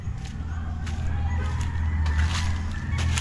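Chickens cluck and murmur nearby in a rural yard, a busy layered flock chatter running steadily over a low background rumble with no talking.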